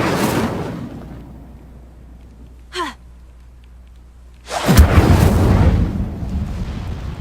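A fire spell cast in the video game Hogwarts Legacy bursts out as a loud, sudden whoosh of flame that roars on for a couple of seconds, following a quiet stretch with one brief swooping effect.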